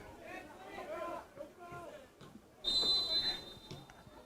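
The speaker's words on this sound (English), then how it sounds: "And a whistle and a foul called on the Braves" A referee's whistle shrills at a men's college soccer match, a sharp high blast cutting through crowd chatter and a commentator's talk.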